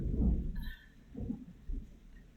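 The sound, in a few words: thunder outside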